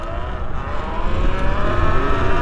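A Talaria Sting electric dirt bike accelerating in power mode 4, a loud, close, rising motor whine over rushing wind noise that builds steadily.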